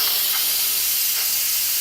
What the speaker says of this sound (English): Let the steam come out of it